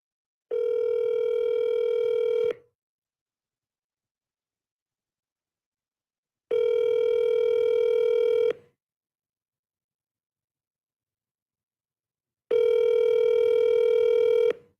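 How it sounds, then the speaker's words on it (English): A phone call rings out on speakerphone: three identical long ringback tones, evenly spaced with silent gaps between them, loud and clear with no talking. "I'm gonna call Stoots on speaker here"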